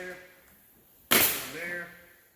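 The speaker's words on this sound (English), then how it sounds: "One staple through here." A single sharp staple shot drives into a wooden beehive frame during assembly, one loud crack standing out near and alone against quiet room tone.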